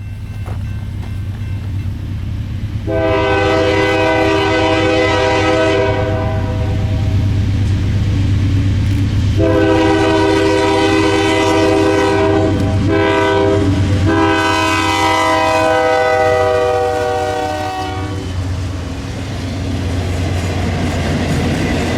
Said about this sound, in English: We relocated to the crossing just south to catch the inbound train coming in.